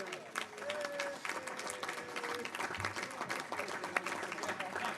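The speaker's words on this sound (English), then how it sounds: "Give them a round of applause." An audience applauding steadily throughout at the organizational meeting for the 115th Congress, a dense wash of many hands clapping in a large room.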